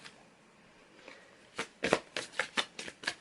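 Tarot cards being shuffled by hand: a quick run of crisp riffling flicks, fairly close and clear, following a quiet start with no talking.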